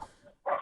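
A pet dog gives a single sharp bark close to the microphone in a home during a remote press conference, preceded by faint background sound.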